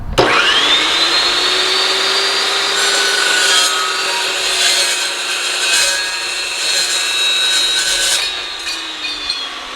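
An Evolution Evosaw S380CPS cold saw cuts through 1 1/4 by 1/8 inch steel angle, a loud close high-pitched whine that rises quickly, holds steady through the cut for several seconds, then winds down.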